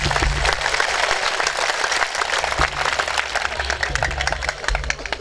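An audience claps continuously at a music gathering held at a Sufi shrine, a dense, steady wash of applause lasting throughout.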